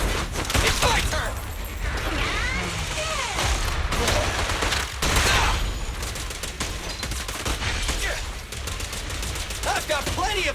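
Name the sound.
gunfire in the video game Zenless Zone Zero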